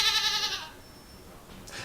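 A goat lets out a single wavering bleat, close and fairly loud, that fades within a second into quiet room tone with a faint trailing sound.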